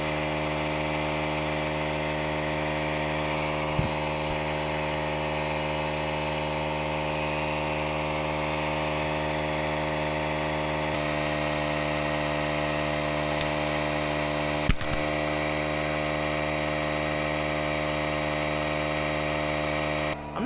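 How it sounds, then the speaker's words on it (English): A small portable air compressor runs steadily, inflating a side-by-side utility vehicle tire to seat the bead, giving a constant motorized drone with a couple of brief pops and clicks, alone with no talk. "I'm pretty surprised that little compressor has enough airflow to set the bead on there."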